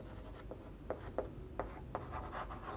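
Numbers are written by hand with a pen on paper, a faint close scratching with small regular taps as each stroke lands, quiet and without talk.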